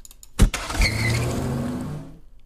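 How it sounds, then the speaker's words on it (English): A car door thuds shut, then an engine turns over and revs hard as the car pulls away quickly, fading out after about two seconds. "Somebody going in the car very quickly, closing the door, and then starting the engine and peeling out."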